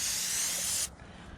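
Starting fluid sprays into the intake of a Detroit diesel engine in one steady, close, loud hiss that runs just under a second and then stops sharply.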